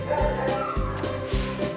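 Several dogs on a rural farm with a vegetable garden bark in a run of sharp, close woofs, about four loud barks in quick succession with some yipping between them.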